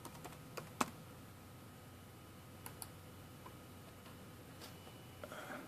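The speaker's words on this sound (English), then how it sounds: "type in live over here" Keys on a computer keyboard are tapped in sparse, quiet clicks over a steady background hiss, with a few sharper strokes spread through the pause.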